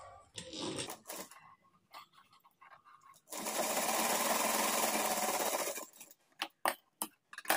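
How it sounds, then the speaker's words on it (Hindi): A sewing machine stitching a latkan, a few short start-stop bursts and handling clicks, then one steady loud run of stitching lasting over two seconds, followed by quick taps and short bursts. "तो यहाँ पर हम सिलाई लगा लिए हैं।"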